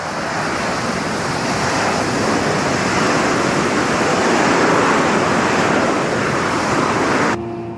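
Harrier jump jet hovering with its engine at full power, a loud, continuous broadband roar holding steady for about seven seconds before abruptly dropping away.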